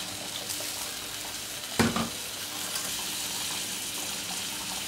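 A splash of red wine goes into a foie gras sauce simmering in a pan, making a brief sharp hiss that settles back into a steady, even sizzle.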